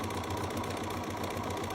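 A Bernina sewing machine stitches with presser foot #6, a fast, even mechanical whir with a rapid repeating needle rhythm, close and steady, with no talk.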